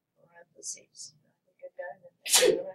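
A single sharp sneeze bursts out close by in a classroom during a pre-calculus lesson, following a man's scattered speech about entering an expression into a calculator.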